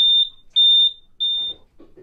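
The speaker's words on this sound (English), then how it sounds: "This is a sleeping timer." A sleeping timer alarm aboard a Figaro 3 sailboat sounds three loud, steady, high electronic beeps, each about a third of a second long, followed by faint rustling.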